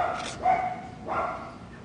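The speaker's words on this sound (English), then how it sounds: "There goes my neighbor's dogs." The neighbor's dogs bark from somewhere off in the distance: two loud, separate barks about a second apart, with no talk over them.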